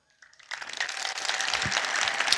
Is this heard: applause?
yes